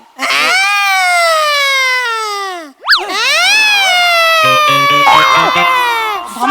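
A voice imitates a wailing siren on a comedy stage, with a long, loud descending wail, a brief break, then another sustained falling wail.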